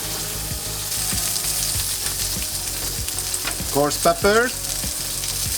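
A tomahawk ribeye steak sears in a hot pan with a steady, close sizzle and a few sharp scraping clicks, while someone briefly speaks over it.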